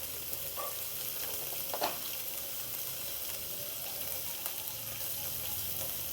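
Chopped onion, ginger and garlic frying with fish in a pan, a quiet continuous sizzle with occasional light clinks of a spatula stirring.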